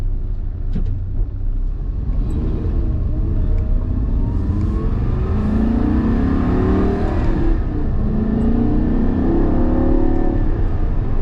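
A car's V8 engine idles steadily while warming up, a loud, continuous low rumble heard close by with faint wavering engine tones and no voices.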